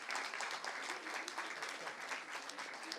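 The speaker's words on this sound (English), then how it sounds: "Let's give a big round of applause" Audience applause at a live Women Power face-to-face event at India Habitat Centre, a dense, steady crowd clapping that fills the hall continuously and loudly, with no speech over it.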